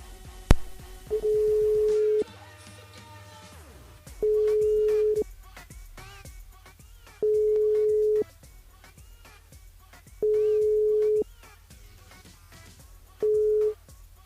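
Telephone ringback tones during a live radio phone-in callback: a steady electronic tone repeats in regular one-second bursts separated by two-second gaps, loud and clear, with a brief clatter near the start.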